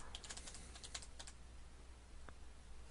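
Fingers tap quickly on a computer keyboard entering repeated wrong passwords: a short burst of light clicking keystrokes, then a pause and a lone keystroke, close and quiet.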